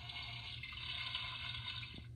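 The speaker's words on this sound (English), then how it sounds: "it mimics the flushing sound." A toy toilet plays a faint electronic flushing sound, a soft steady watery whoosh lasting about two seconds with a slight gurgle near the end.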